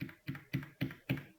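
Five evenly spaced keyboard key presses, Shift held with arrow keys tapped to select text, each a soft, close thump about a quarter second apart, with no voice.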